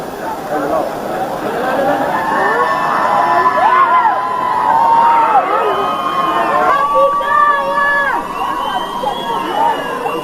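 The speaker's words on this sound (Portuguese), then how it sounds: "Olha o Barba sendo vaiado aí, ó." A large outdoor crowd of protesters shouts and jeers at Lula in a sustained, loud roar of overlapping voices, with whistles and scattered chanting running through it.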